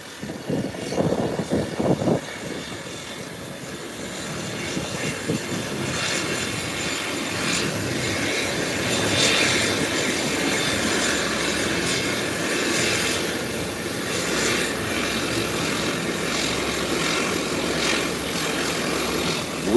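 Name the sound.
airplane engines at an airport, plane spotting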